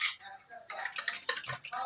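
A sister stirs yogurt to make ghol, a Bengali buttermilk drink, with a spoon clinking and tapping against the vessel in quick, irregular strokes, close and fairly quiet.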